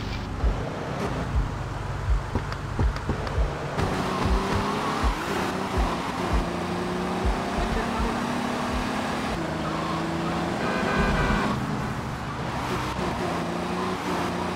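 A car engine hums steadily in GTA Vice City, with a constant drone, occasional tire and road noise, and faint traffic during a bank heist getaway drive.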